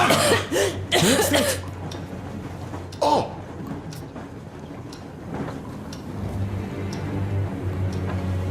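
A person in the Metro Exodus video game coughs several times in a harsh, close burst at the start, then once more, over a low humming ambience.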